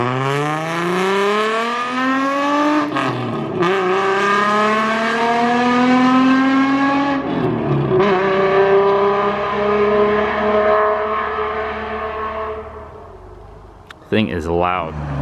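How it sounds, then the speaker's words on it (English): A Nissan Z fitted with a power sport muffler accelerates hard close by on a snowy turnpike, the loud exhaust rising through several gear pulls with brief shift breaks before fading out, followed by a short burst of noise. "Have a badass Z next to us. You saw this earlier with a power sport muffler. Things are loud."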